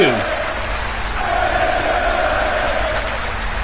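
A crowd roars steadily at a wrestling match in the WWE 2K video game, a dense sustained wall of cheering throughout with no clear breaks.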